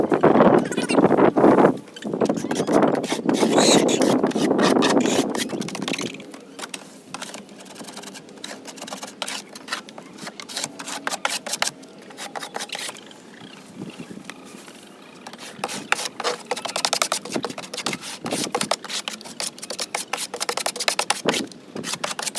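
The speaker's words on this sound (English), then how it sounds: "I have a scraper." A scraper works across a chicken coop floor, loud rough scraping in the first few seconds, then a long stretch of rapid rhythmic scratching and rasping strokes that rise again toward the end, with no voices.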